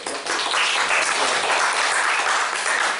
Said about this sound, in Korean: 우리 지연이 한번 박수 쳐주세요